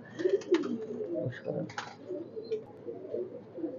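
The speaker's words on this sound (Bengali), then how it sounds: "আমি আপনাদের মাঝে আমার শখের পায়রাগুলো দেখানোর চেষ্টা করতেছি" Oman bloodline teddy pet pigeons coo close by in low, rolling, repeated calls, with a few brief higher chirps mixed in.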